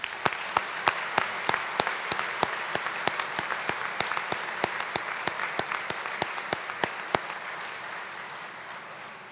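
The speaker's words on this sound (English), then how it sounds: "Let's applaud their accomplishments as well." An audience applauding at an Eagle Scout dinner, sharp clustered claps in a steady patter that fades gently near the end, with no one speaking over it.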